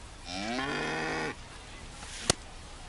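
A cow moos once in an insurance advertisement, a long low call lasting about a second, followed by quiet background and a single short sharp click near the end.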